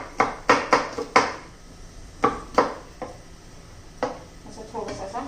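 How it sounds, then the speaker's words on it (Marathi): Garlic being finely chopped and crushed on a board for a cauliflower vegetable dish, a series of sharp close knocks in quick bursts with gaps between, some louder hits standing out, and no talking over them. "लसूण पण बारीक चिरून घेऊया."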